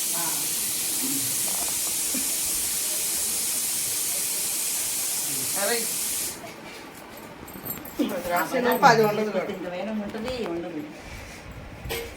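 A pressure cooker's loud, steady hiss of escaping steam fills the first six seconds, then cuts off as people talk nearby.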